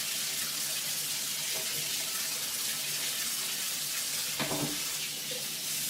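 Tap water runs steadily as a quick rinse at a kitchen sink while making Southern-style potato salad, a continuous close splashing hiss with a brief louder splatter near the end.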